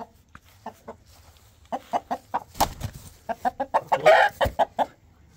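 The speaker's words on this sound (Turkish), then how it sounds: "Bu da çok yaman bir horoz arkadaşlar." An Indian breed rooster clucks in a rapid series of short, close calls that build in loudness, heard alone in a quiet outdoor setting.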